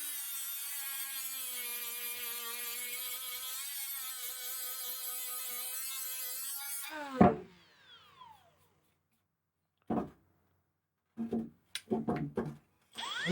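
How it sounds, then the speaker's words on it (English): A Harbor Freight cordless die grinder with a 60 grit sanding disc and a 4 amp hour battery whines steadily at high speed, then winds down sharply, followed by a few brief clicks and scrapes in near silence. "This is a 60 grit sanding disc."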